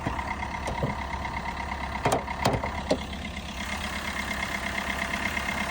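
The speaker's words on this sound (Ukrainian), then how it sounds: "Зараз покажу вам двигун автомобіля" A Fiat Fiorino engine idles steadily at close range, a continuous low rumble with a few faint clicks and knocks near the start.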